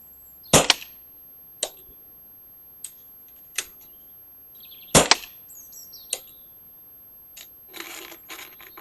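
Daystate Redwolf GP air rifle firing: two sharp, close cracks stand out among several fainter clicks and ticks spread across the stretch, with a short burst of rustling near the end.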